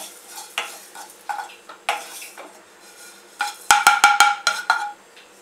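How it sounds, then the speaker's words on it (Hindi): Cumin seeds dry roasting in a pan, with irregular scraping strokes of a spoon that build into a quick burst of sharp metallic clinks near the end, close and clear. "अभी जीरा, जीरा को बिल्कुल 1 मिनट हम भूनेंगे।"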